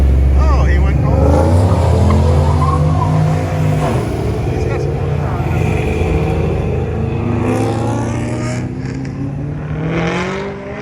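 A Chevrolet C10 pickup truck rolls out at a car cruise, its engine rumbling steadily and close by throughout, with a crowd and commentary voices talking over it.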